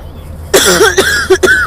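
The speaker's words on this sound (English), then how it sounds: "This coughing, it's rough." A few rough, close coughs from a person with a cold, in quick succession, loud and throaty, with nobody speaking.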